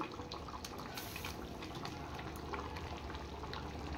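A pot of chicken curry with papaya and potatoes bubbling and simmering steadily, a dense continuous burble with small pops, close by and fairly quiet, no voices.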